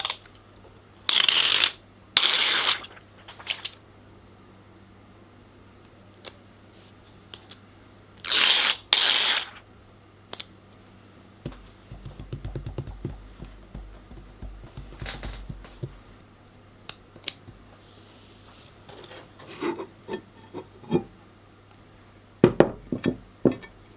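A hand tool is drawn in short scraping strokes across sticky high-grade sandpaper laid on a flat stone, with a few loud bursts of rasping set apart by quiet pauses and some lighter handling noises later on.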